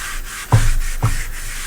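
Lacquer thinner being scrubbed over the sides and top of a wood furniture piece during stripping: a steady, fairly close rubbing hiss with two sharper scrub strokes near the middle and no talking.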